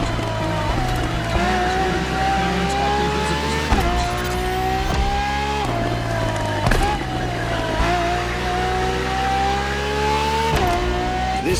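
Ferrari FXXK supercar in The Crew Motorfest racing hard, its engine rising in repeated rev climbs cut by sharp gear shifts every couple of seconds, loud and close throughout without voices.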